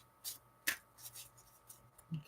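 Tarot cards shuffled by hand in a quiet room, giving a few short, crisp riffling bursts spaced apart, close and fairly soft, with no talking over them.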